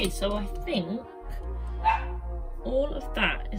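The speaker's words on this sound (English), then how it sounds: "Sorry about the barking" A dog barks several times in quick, uneven bursts, loud and close, with short pauses between the barks.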